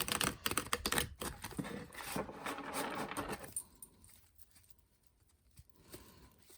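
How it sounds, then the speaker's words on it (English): Rapid riffling and flapping of tarot cards being shuffled for about three seconds, then quieter scattered rustling. "Let's give these cards a little shuffle."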